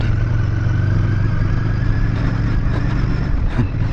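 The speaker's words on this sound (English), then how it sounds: "In city riding on a bad patch like this bike is really difficult." A Royal Enfield Bear 650 motorcycle crosses a rough patch of city road, its engine droning steadily and loudly up close while the chassis clatters and thumps over the bumps.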